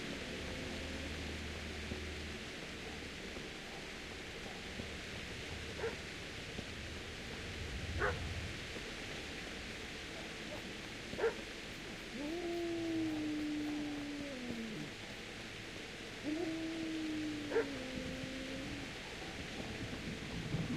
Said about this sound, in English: why do I keep hearing a dog yelping?